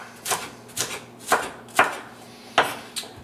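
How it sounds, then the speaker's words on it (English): A knife chops green pepper into pieces on a board, six crisp, evenly spaced cuts, close and clear with no talking. "Just cut them in pieces like that."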